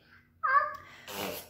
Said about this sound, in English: Sorry about that, sneezes.